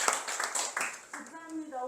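Audience applause closing a lecture at a village college session, a dense patter of clapping hands that trails off toward the end while voices begin speaking over it.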